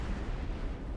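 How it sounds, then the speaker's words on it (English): An explosion in a flight combat video game played with a HOSAS setup: a dense, continuous low rumbling blast filling the whole second at steady loudness, with no talk over it. "Explosion imminent."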